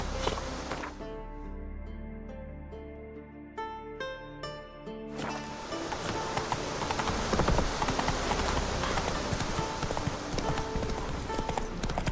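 Horse hooves clip-clop in The Witcher 3, starting under game music and building into a louder, busier run of rapid, steady hoofbeats close by.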